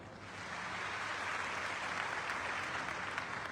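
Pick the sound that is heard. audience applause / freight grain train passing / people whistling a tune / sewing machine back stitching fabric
audience applause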